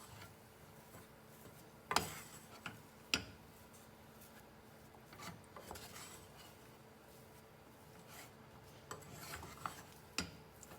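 Mozzarella and parmesan cheese puff dough stirred in a pot, with occasional sharp clinks of a spoon against the sides and soft scraping between, fairly close and quiet, no talk.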